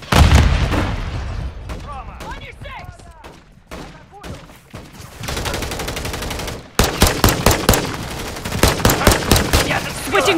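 Rapid automatic gunfire and loud bursts in a Call of Duty firefight, with dense volleys at the start, then sparser shots, then a steady run of sharp repeated shots toward the end, mixed with shouted voices.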